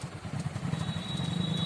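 Motorcycles idle in a line at a fuel station, a low steady engine putter with a fast, even throb, moderately close and continuous.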